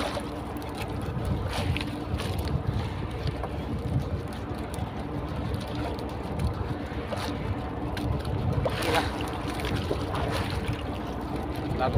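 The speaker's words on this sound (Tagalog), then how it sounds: "Ang laki na ulit alon." Steady rushing wash of sea waves around a small fishing boat out on open water after landing Spanish mackerel, a dense continuous surge with swells rising and falling, no talk.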